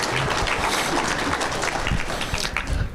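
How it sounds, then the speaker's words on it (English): Crowd clapping at a tractor pulling club's awards banquet, loud and continuous, a full room of hands applauding steadily for a few seconds. "Let's give her a hand one more time."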